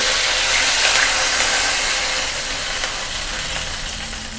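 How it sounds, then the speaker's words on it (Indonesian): Loud, steady hissing sizzle of water poured into a hot pan while cooking nasi mandhi, easing slightly toward the end, with no voices. "lalu kita tambahkan air"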